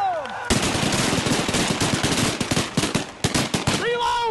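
Shotguns volley rapidly at geese over a pond during a Texas waterfowl hunt, a loud, close barrage of overlapping blasts lasting several seconds, with goose calls heard before and after.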